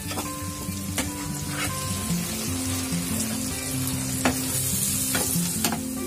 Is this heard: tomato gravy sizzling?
yes